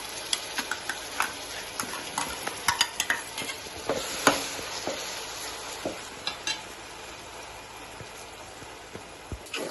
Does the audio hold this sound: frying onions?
yes